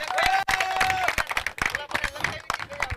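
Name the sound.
applause at cricket league auction event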